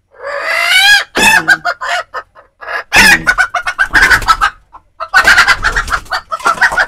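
Chickens cluck and squawk loudly and close by in a rapid, irregular series of calls with short pauses between bursts.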